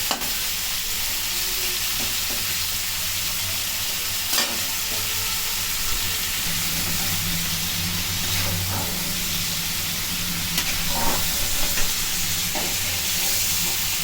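Shrimp and kohlrabi frying in a pan for a curry, a steady loud hissing sizzle throughout with occasional soft stirring clicks and taps, close up and without speech.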